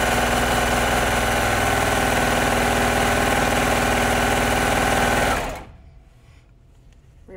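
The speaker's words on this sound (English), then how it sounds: "here we are at the serger, and we're going to sew the hood pieces together" Serger sewing curved hood pieces of a shirt together, a loud fast steady mechanical whir running continuously for about five seconds, then stopping abruptly into near silence.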